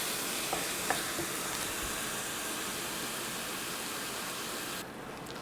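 Ground chicken browning in a hot pan, a steady, close, dense sizzle that holds evenly throughout with a couple of faint clicks near the start and a slight drop in level at the very end.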